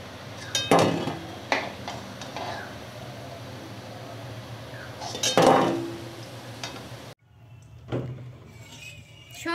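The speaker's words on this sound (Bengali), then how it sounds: "ধোকাগুলো সুন্দর করে ভাজা হয়ে গেছে, এবার আমি তেল ঝরিয়ে তুলে নিচ্ছি।" Fried banana flower dhoka are lifted from oil in a wok: a low frying hiss runs under sharp metal clinks and scrapes of the utensil against the pan, then drops away to near quiet.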